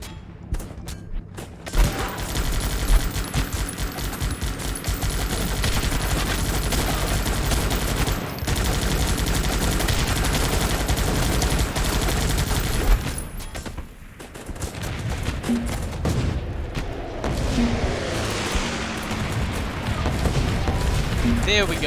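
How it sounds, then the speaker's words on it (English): Mortar and sniper fire in the war game GunsUp, a dense run of rapid gunshots and booms that keeps going for most of the stretch, with a few quieter gaps and speech over the battle noise. "That mortar shot and that sniper hit."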